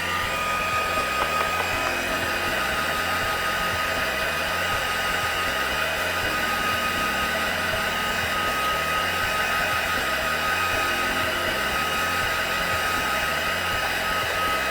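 A hair dryer blowing on a wet watercolour butterfly painting, a loud steady whooshing roar that holds constant for the whole stretch with no talking.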